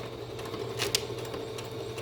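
A home sewing machine back stitching fabric for a fitted kids' face mask, running at a low steady hum near the mic with a brief rattling burst midway.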